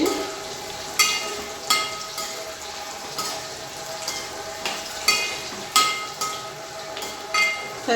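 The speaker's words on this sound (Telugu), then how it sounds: "ఆనియన్స్ కొంచెం ఫ్రై అవనిద్దామండి" Onions fry in a hot pan with a steady, close sizzle. Sharp clinks and scrapes from stirring break in every second or so.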